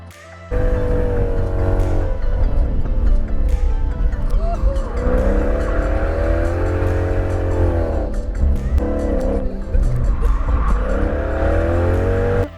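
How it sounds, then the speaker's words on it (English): Race car drifting at Dream Racing in Las Vegas, a loud engine revving up and down with squealing, skidding tires, sustained and close throughout. "But instead of driving, I did the drifting experience."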